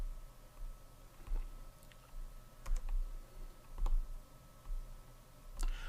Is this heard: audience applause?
no